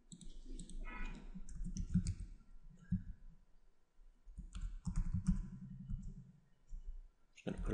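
A computer mouse clicks while a project is set up on screen. Scattered close, sharp clicks come in small clusters over a faint low hum.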